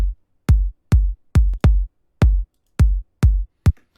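A soft, open-sounding kick drum, EQ-processed for a piano drop track, thumps eight times in a steady, evenly spaced pulse with short rounded decays and silence between hits.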